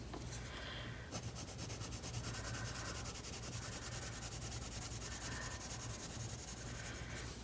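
Wax-based coloured pencils scratch and rub across paper as colour is layered, a soft continuous scraping with short strokes, close and alone.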